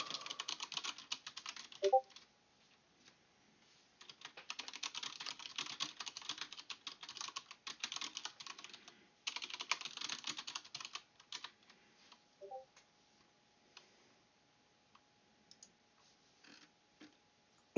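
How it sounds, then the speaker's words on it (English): Someone types on a computer keyboard in long bursts of rapid clicking, broken by a few brief pauses and a couple of isolated key taps, close and fairly quiet. "Dom is typing."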